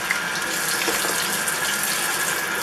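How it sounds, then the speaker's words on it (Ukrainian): Running tap water pouring steadily into a sink or bowl while a cake ingredient is rinsed, a continuous close hiss and splash with no talking. "Далі необхідно її гарно помити, кілька разів прополоскавши водою."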